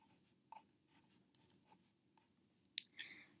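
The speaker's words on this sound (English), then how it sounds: "I'm going to write next to remind me that that's where we are right now" Someone writes on paper with a pen: faint, close scratchy strokes and small taps in short bursts, ending with a brighter squeak and scrape, in a quiet room with no talk.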